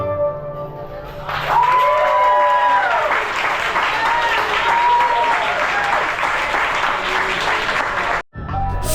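Steady applause and cheering from a live audience after an all-female Middle Eastern instrumental trio's performance in Dubai, loud and sustained with a few whistles and shouts, then cutting off abruptly near the end.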